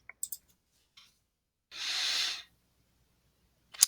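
A few brief, sharp mouse clicks select a Start Coding button in the EduBlocks coding site. A couple come close together near the start and one comes at the end, with a soft breathy hiss between them and no talking.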